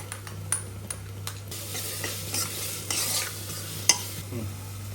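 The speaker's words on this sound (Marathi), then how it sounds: "हे जे वाटण आहे ते आता छान परतून घेतलेलं आहे" Masala paste sautéed with onions in a pan: sharp scraping taps of a spoon against the pan over a soft sizzle and a steady low hum, close and intermittent, with no speech.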